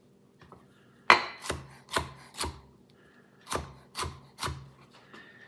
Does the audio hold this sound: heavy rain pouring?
no